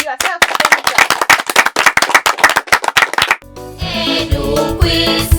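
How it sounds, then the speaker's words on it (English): Secondary school students at a quiz competition clap in a quick, rhythmic run of sharp, loud claps for about three seconds. The clapping stops abruptly and music follows. "Give yourself many clap."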